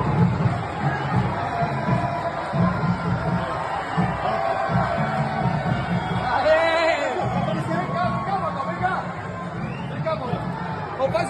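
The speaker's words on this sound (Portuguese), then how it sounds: "A torcida viu que o jogo ia ficar no 0-0, começou a gritar desesperado pelo nome do Neymar." Santos supporters in the stands at Vila Belmiro raise a loud, continuous roar of crowd noise and chanting, a dense wall of shouting voices that swells and holds throughout.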